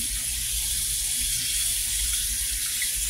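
Tap water runs steadily in a continuous hiss and splash as a cast iron pan is rinsed, loud and close, with no voices.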